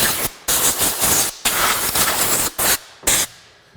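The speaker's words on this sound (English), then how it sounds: "So I just use my air hose with this, pretty light. It works pretty quick." Bursts of compressed air from an air hose blasting debris off a battery chainsaw, several loud, close hissing blasts separated by short pauses.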